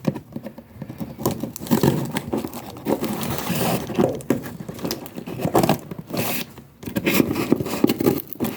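A corner of a cardboard box being cut away while packing a pineapple plant, giving close, continuous scraping, tearing and crinkling with brief gaps.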